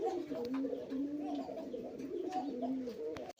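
Red indigo Rasgolla pigeon cooing close by, repeated soft throaty coos in a rolling rhythm, fairly quiet.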